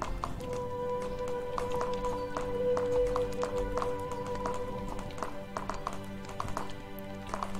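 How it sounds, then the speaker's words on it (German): Horse hooves clip-clop and stumble across paths in the video game Animallica, a steady run of light taps over a constant musical game soundtrack. "Pferd stolpert hier über die Wege drüber."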